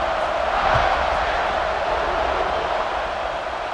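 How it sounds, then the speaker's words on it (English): Steady crowd roar fills the whole stretch, a dense wash of many voices cheering and buzzing without a break, in the College Football 26 video game after a score. "this crowd is buzzing after that last score"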